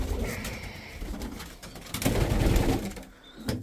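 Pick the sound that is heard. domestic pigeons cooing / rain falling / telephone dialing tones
domestic pigeons cooing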